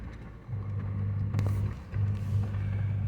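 A stock Jeep Wrangler JL Willys crawls off-road at a mountain park, its engine a low steady rumble that rises as it speeds up a little, dips briefly, then climbs again.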